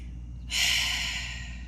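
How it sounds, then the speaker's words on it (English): A single close, breathy inhale through the nose during a yoga session, a soft hiss that swells quickly and then fades slowly. "Breathe in through the nose, out through the mouth."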